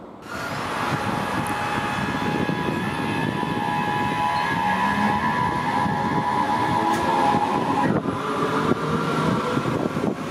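Frankfurt S-Bahn train running toward Frankfurt Messe station, a steady loud rumble with tonal motor whine that shifts pitch, continuous throughout without speech.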